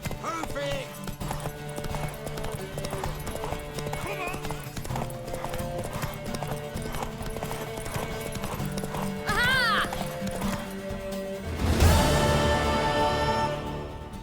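In a horse race in the video game The Witcher 3, hooves clip-clop at a gallop in a fast, steady rhythm with whinnies and game music, building to a louder burst near the end.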